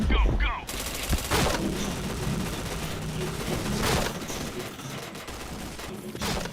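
Rapid automatic gunfire in a shooter video game, loud and continuous bursts with overlapping shots, while a voice is heard briefly.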